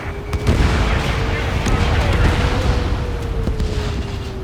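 Missile launches and explosions in Ace Combat 7: Skies Unknown, a dense continuous rumble of blasts and firing with a steady tone running through, loud and sustained.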